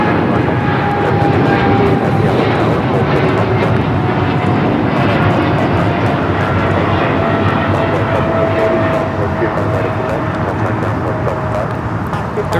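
A 13-year-old DHL Boeing 777 freighter operated by Polar Air Cargo departs Los Angeles airport, its jet engines giving a loud, sustained roar with a thin whine running over it for the whole stretch.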